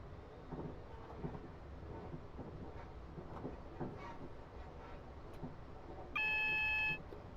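In a train driving video game on the Portsmouth Direct Line, a steady electronic signal alert beeps for about a second, sounding over the low continuous rumble of the moving train.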